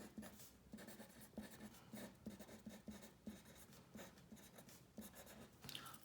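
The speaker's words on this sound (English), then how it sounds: "I'm just going to write it" A pen scratches on paper as chemistry notes are handwritten, giving quiet, close strokes in a steady rhythm of short scrapes and taps with no talking.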